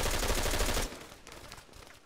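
Gunfire in Arma 3 during a Texas-themed PvP event: a dense, loud burst of rapid shots for under a second, then a quieter scattered tail of distant reports and game ambience.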